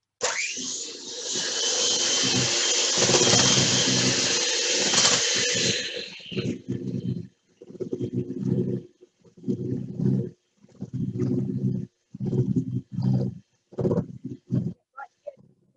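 An electric mixer churns pfeffernusse dough, first a steady, loud, close whirring drone for several seconds, then a series of shorter, choppy bursts of motor noise with brief gaps between them.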